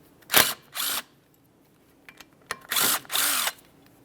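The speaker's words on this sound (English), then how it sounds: "Remove the brake rotor from the area by removing these 2 T40 Torx screws." A power tool whirs in short bursts removing T40 Torx brake rotor screws on a 2006-2012 Ford Fusion, two quick runs, a pause, then two more, close and loud with quiet between.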